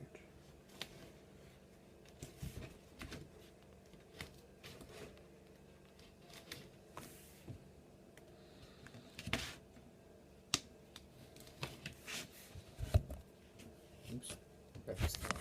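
Foam being cut for a Captain America shield, giving a quiet run of soft scraping and slicing strokes with scattered sharp clicks and snaps, faint and close, with some low handling noise between strokes.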